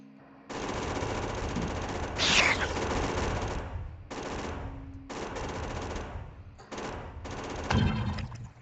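Sustained gunfire aimed at an alien nest in a modded Factorio video game, heard as long continuous streams of shooting broken by short pauses and fairly steady in loudness.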